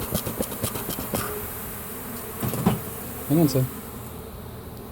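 Honeybees buzz around frames lifted from a hive near a smoker, a close, steady droning with scrapes and light knocks of the frames while someone speaks briefly.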